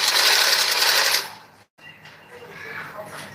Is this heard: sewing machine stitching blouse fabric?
yes